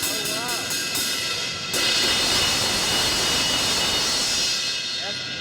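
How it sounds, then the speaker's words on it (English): A thin 20-inch Zildjian K Dark Crash cymbal played as a ride, giving a dense, continuous wash of shimmer that swells midway and holds loud throughout, with a voice briefly heard under it. "This is the 20-inch K Dark Dark Crash Thin."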